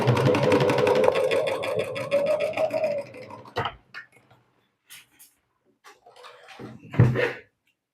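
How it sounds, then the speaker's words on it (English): A sewing machine runs a straight stitch through a handbag for about three seconds, a steady close mechanical whir that then stops, followed by sparse handling clicks and knocks. "So we're going to do this with a straight stitch."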